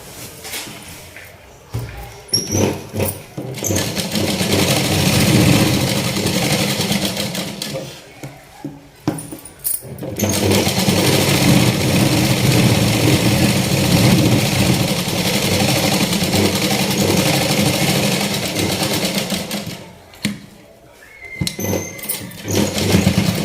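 A sewing machine stitches both legs of a patiala salwar, running in long steady bursts of whirring with brief pauses between seams.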